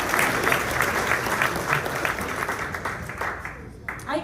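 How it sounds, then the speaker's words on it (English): A large audience at a morning civic State of the City event claps steadily for a local pie bakery, a dense, continuous wash of hands that holds for several seconds before beginning to thin out. "Let's give them a round of applause."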